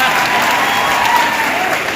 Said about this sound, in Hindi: तालियां भी वही बजाते हैं जिनकी तालियों में दम होता है।